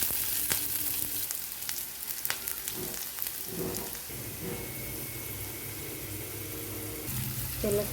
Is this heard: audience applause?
no